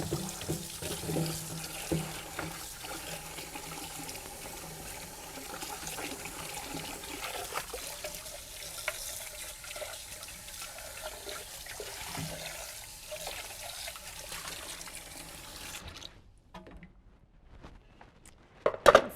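Running tap water splashes and trickles steadily while a food processor is rinsed under it in a home kitchen, fairly quiet and continuous before the flow stops near the end, followed by a couple of faint clunks.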